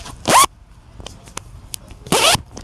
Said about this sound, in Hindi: ओरिजिनल जिप लगी हुई है बड़ी ज़बरदस्त किस्म की। इसकी भी आपको आवाज़ सुनाता हूँ